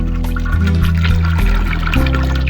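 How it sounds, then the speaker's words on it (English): A toilet flushing in a point-and-click adventure game: a steady rush of water pouring and swirling through the bowl, loud and continuous with a droning hum underneath, no voices. "You flush the toilet."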